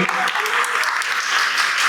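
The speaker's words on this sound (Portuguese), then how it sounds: "uma salva de palmas para a professora também" An audience claps steadily for a professor at a Senac lecture, a dense, even patter of many hands filling the whole moment, with no speech on top.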